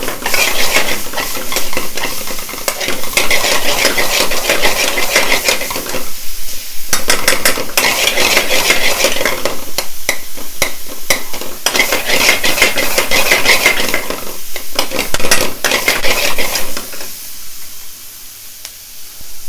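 Garlic and ginger fried in oil and stirred in a pan for a restaurant-style chicken rogan josh, a loud continuous sizzle with scraping utensil strokes in repeated bursts, fading toward the end, no talking.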